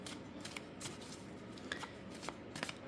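Tarot cards shuffled and handled before one is drawn, with soft, close riffling and crisp flicks and slaps of cardstock in a quiet room.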